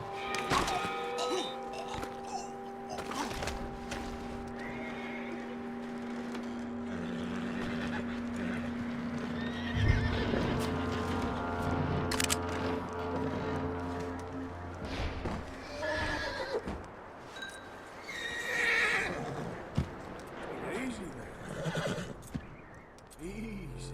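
A horse in Red Dead Redemption 2 whinnies loudly with long, wavering neighs, while hooves clip-clop beneath and faint game sounds fill the background.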